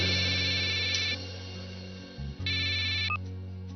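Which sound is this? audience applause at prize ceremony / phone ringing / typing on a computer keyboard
phone ringing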